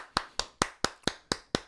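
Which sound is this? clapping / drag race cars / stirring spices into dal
clapping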